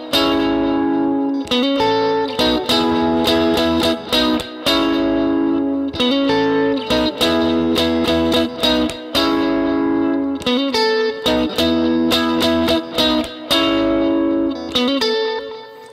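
An electric guitar plays a triad-based riff with effects and reverb, giving rhythmic strummed chord stabs and short pauses in a steady, close, loud groove with no voices.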